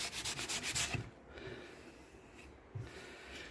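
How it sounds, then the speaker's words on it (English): A sanding sponge lightly rubs over wood filler on a piece of furniture, a few quick rhythmic scrubbing strokes up close, then quieter intermittent rubbing with a short scrape near the end. "take a sanding sponge, and I'm just going to lightly sand some of these areas that I added my wood filler to"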